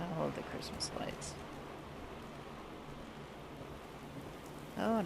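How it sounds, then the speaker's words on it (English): Rain falls in the video game Fallout 4 as a steady hiss of drops on surfaces. Someone speaks briefly at the start and again at the end. "Oh, and it's raining."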